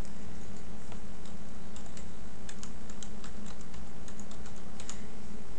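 Keys clatter on a computer keyboard as a short label is typed into a PDF, with quick irregular clicks bunching toward the end over a steady low room hum.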